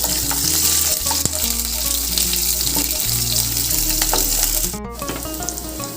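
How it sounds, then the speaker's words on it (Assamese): Chopped onions fry in a pan for a kofta curry, giving off a dense, steady sizzle that runs the whole time with faint tonal sounds underneath and no talk. "এতিয়া পিঁয়াজখিনি কালাৰ সলনি হোৱালৈকে ভালকৈ ভাজি ল'ম"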